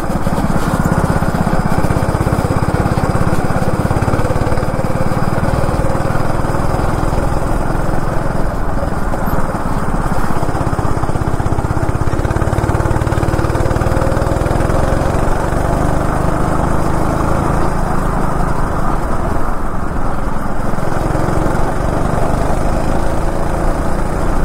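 A two-stroke go-kart engine running on a track, a loud buzzing drone that stays steady and close for the whole stretch, with no talking over it.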